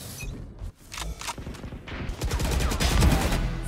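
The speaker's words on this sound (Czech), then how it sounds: "já slyším furt střelby, ale nikoho nevidím" Gunfire in an online video game, rapid bursts of shots layered into dense, continuous firing that builds louder toward the end, with no talking.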